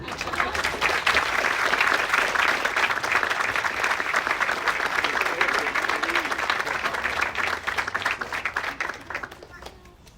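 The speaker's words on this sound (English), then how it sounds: "please give a big round of applause for the Sports Fellowship Class of 2021" An audience at a family medicine residency and sports medicine fellowship graduation ceremony bursts into sustained applause, dense steady clapping for several seconds before tapering off near the end.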